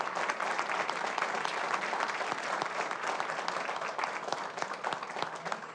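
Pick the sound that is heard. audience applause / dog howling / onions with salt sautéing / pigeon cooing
audience applause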